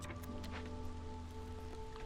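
Steady rain falling in the rainpunk city-builder game Against the Storm, a continuous dense hiss of drops over a low ambient drone with faint musical tones, even and unbroken throughout.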